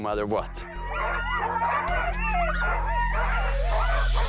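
A team of sled dogs barks, yips and whines excitedly at close range in a dense, overlapping chorus that lasts the whole clip, with someone speaking over the noise.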